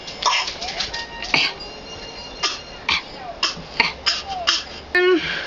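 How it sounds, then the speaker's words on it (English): A man coughing hard, several sharp separate coughs spread over a few seconds, close and fairly loud, with short gaps of quiet between them and a brief voice near the end. "He's got a bad cough."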